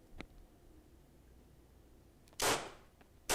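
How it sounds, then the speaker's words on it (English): Gunshot sound effects drenched in reverb for an edited intro: a faint click early on, then one loud, sharp blast with a reverberant tail, and the start of another at the very end, over a low steady background hiss. "So I just added some crickets to the background, some footsteps and gunshots"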